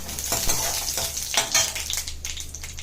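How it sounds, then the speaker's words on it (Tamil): Mustard seeds and urad dal sputter in hot oil for tempering, a close, loud crackling sizzle with quick pops and stirring scrapes throughout the short stretch. "கடுகு போடுங்க, கொஞ்சமாக பருப்பு ஆட் பண்ணிக்கோங்க, உளுத்தம் பருப்பு"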